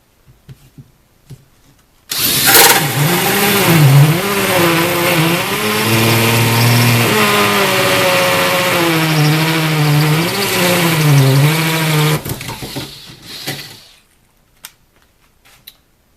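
A Bosch cordless hammer drill fitted with a hole saw bores through wood in hammer drill mode, a loud close whine with wavering pitch as the bit bites and eases, running about ten seconds before winding down and stopping.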